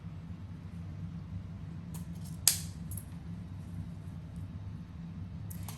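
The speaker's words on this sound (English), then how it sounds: "I am going to cut at an angle." Scissors snip through ribbon at an angle while a colorful bow is being made, a single crisp cut standing out against a steady low background hum, close and brief.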